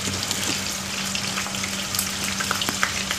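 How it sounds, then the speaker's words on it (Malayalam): Finely chopped prawns fry in a pan with a dense, continuous sizzle and crackle, close and fairly loud over a low steady hum, with no talking. "നമുക്കതിനെ ഇതിലിട്ട് ഒന്ന് ഫ്രൈ ചെയ്തെടുക്കാം."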